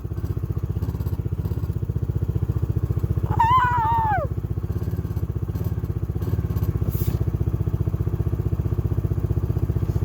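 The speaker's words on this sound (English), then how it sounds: "I need to rev the engine now to heat it up." A motorcycle engine idles steadily outdoors with a fast, even low pulse, close and loud throughout; a brief whining rev near the middle rises and falls before the steady idle resumes.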